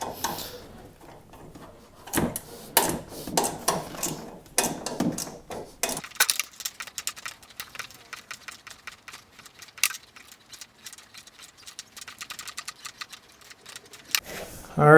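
A small 1/4 inch drive ratchet with a 12 millimeter socket tightens a bolt on a nerf bar of a Polaris Ranger 1000 ATV, giving rapid clicking bursts, loud and close, then steadier lighter clicks.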